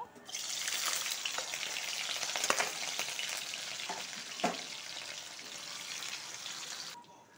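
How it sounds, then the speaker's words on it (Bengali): Paneer frying in hot oil in a wok, a loud steady sizzle with crackling bursts running about seven seconds, then cutting off abruptly, with no voices. "তেলটা গরম হয়ে গেছে, পনিরটা ভেজে নিব।"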